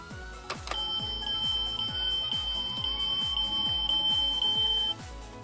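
Toy camper minicar sounding its push-button alarm, a loud continuous high electronic tone with a steady rapid pulsing beat underneath, lasting about four seconds before stopping abruptly.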